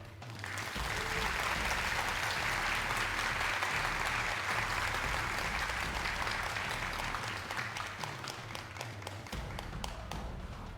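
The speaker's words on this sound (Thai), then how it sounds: "ปรบมือให้คนเหล่านี้ดังๆ" A crowd at a Thai political rally claps loudly and steadily for around ten seconds, a dense continuous wash of applause with a low rumble of background noise underneath.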